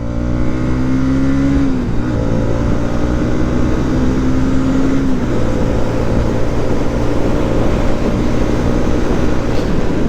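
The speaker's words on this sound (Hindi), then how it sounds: "बट 200 का एग्जॉस्ट नोट इज ऑसम" A 2023 Bajaj Pulsar NS200 motorcycle with a six-speed gearbox accelerates hard, its exhaust droning loud and close as the revs climb, dip on a gear change, then climb again over steady wind rush.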